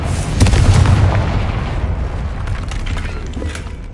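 In Hogwarts Legacy, the Confringo blasting spell goes off as a loud, close explosion. A heavy low boom rolls into rumbling, crackling debris that fades slowly.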